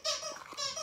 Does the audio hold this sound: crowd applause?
no